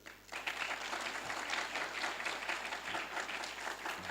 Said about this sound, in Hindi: तालियां साथियों।